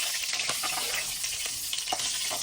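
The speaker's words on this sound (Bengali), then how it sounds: "মাছ ভাজা তেলে কিন্তু আমি পাঁচ ফোড়ন দিয়ে দিচ্ছি" Panch phoron five-spice seeds crackle and sizzle in hot oil left from frying hilsa fish, a dense, continuous frying hiss with small popping bursts. No voices.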